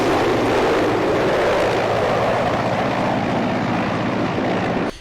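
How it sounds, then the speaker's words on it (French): A helicopter carrying a head of state lands at a provincial aerodrome, its engine and rotor making a loud, steady, broadband roar that continues close throughout and cuts off abruptly at the very end. "l'atterrissage de l'hélicoptère transportant le chef de l'État en provenance d'Ati"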